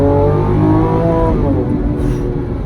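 A Lamborghini Aventador SVJ's engine revs loudly while driving, a dense, close roar with rising harmonic pitch held throughout.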